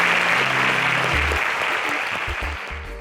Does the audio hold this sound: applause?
yes